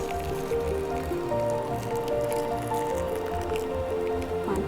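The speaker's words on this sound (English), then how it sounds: "Then we're gonna pour this hot cream into the chocolate." Hot cream poured over chocolate chips, giving a continuous soft liquid squish and drip with small wet pops, close up and steady, with no talk.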